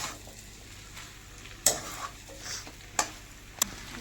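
Mushrooms sizzle in a pan over raised heat while a utensil stirs them. A few sharp scrapes and clanks cut through the steady frying hiss, and no one speaks.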